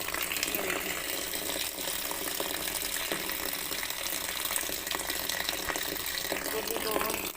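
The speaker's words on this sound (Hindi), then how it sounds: "फिर मैं उसमें डाल रही हूँ पानी।" Water pours steadily onto cut cauliflower pieces in a kitchen, a continuous close splashing rush lasting several seconds with no talk over it.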